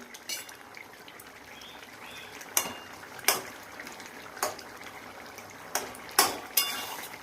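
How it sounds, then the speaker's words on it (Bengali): A metal lid comes off a pot of simmering gravy with potatoes and kohlrabi, followed by sharp clanks and scrapes of a utensil against the cookware, spaced a second or so apart over a quiet kitchen background. "ঢাকাটা খুলে এবার দেখি কেমন সিদ্ধ হলো সবজিগুলো"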